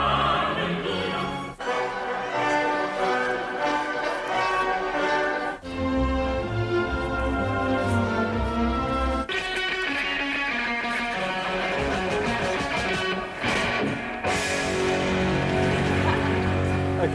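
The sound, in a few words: recorded classical music excerpts by Handel, Wagner, Eric Coates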